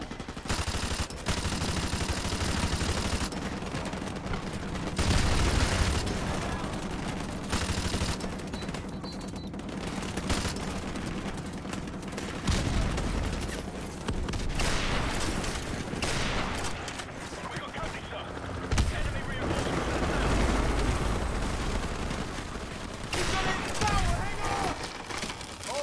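Gunfire in Call of Duty 4: Modern Warfare, dense bursts of automatic fire and single shots rattling on and off over about twenty-five seconds, with spoken dialogue and battle noise mixed in.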